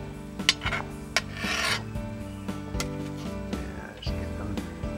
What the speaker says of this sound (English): Scraping it up, scooting it around.